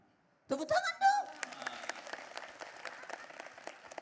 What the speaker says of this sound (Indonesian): Tepuk tangan dulu. Tepuk tangan dong.